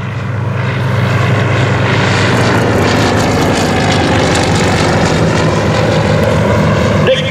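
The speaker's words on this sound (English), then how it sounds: "We've got the Super Cub with the EoN primary climbing to height, and in front of us the Compa CLA-7 Swift." Super Cub tow plane hauling an EoN Primary glider aloft alongside a Comper CLA-7 Swift at a May evening airshow: a loud, steady propeller engine drone that holds throughout, with no one talking.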